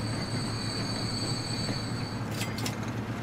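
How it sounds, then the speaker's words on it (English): A train in the video game Transport Fever rolls into a station with a steady rumble and high steady tones, then a few sharp metallic wheel squeals near the end, with no talk over it. "So this train's coming in here."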